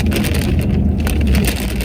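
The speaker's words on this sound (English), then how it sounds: "I'm doing about 25-30 miles an hour here, and it starts raining." Heavy rain pelts a truck driving at about 25-30 miles per hour, a dense, loud, steady hiss and patter over the low rumble of the moving vehicle, with no talking.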